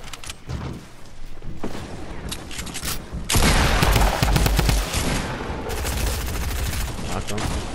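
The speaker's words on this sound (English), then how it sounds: "They're only shooting at me." Heavy bursts of automatic gunfire from enemies shooting at the player in a video game, with rapid rattling volleys that grow louder and denser midway and continue close and loud with brief pauses.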